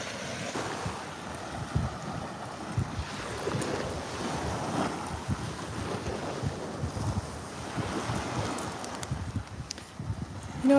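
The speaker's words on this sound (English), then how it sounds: "we'll listen to the waves together for a few minutes" Ocean waves wash onto a beach on a pretty day, a steady broadband surf roar with rolling swells and some wind buffeting the microphone, no talking.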